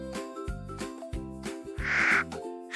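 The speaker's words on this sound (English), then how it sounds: "Ha! A froggy!" Cartoon frog croaking in a children's animated colour-learning show, a series of three or four loud, gravelly croaks in quick succession over bright background music, with no talking.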